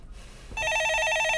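A telephone rings in a Korean stock market call-in broadcast studio, starting after a brief quiet moment with a steady, repeating electronic bell pattern that is loud and close, with no talk over it.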